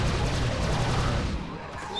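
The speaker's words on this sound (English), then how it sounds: "Some sort of gun." Heavy, rumbling gunfire in the 2006 first-person shooter Prey, a loud, dense barrage of rapid shots that fades slightly toward the end.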